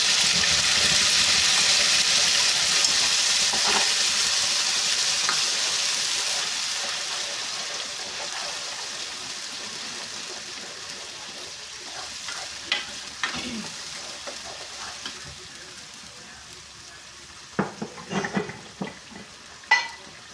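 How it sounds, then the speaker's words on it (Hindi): A garlic, onion and ginger paste frying in a hot pan makes a loud hiss and sizzle that slowly fades. Near the end, sharper clinks and scrapes of stirring come through, close and with no voices. "और अब मैं डालूँगी ये पेस्ट, जो लहसुन, प्याज और अदरक का पेस्ट है"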